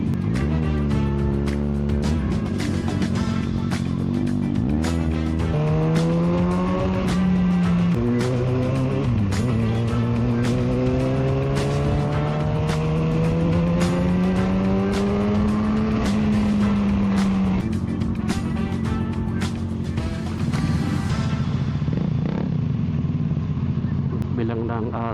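A loud car exhaust revs repeatedly, its pitch rising and falling in long sweeps, with a steady rumble underneath throughout.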